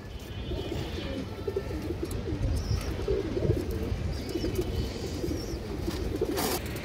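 Khaki high-flyer pigeons coo softly in soft repeated low murmurs, with a few faint chirps and light background noise, no talking.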